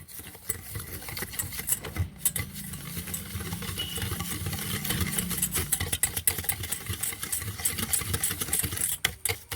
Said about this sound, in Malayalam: ചൂടുവെള്ളം വെച്ചു ഒന്ന് ഇളക്കി കൊടുക്കാം